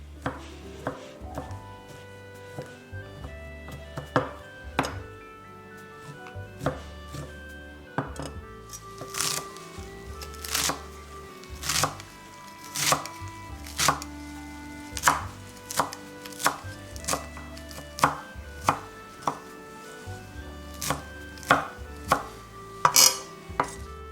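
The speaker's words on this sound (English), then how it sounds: "I am going to chop the parsley. After the parsley, I'm going to chop the coriander" A knife chops fresh parsley and coriander on a cutting board in rapid, rhythmic bursts of crisp close taps that speed up and grow louder over time, with short pauses between runs and no speech.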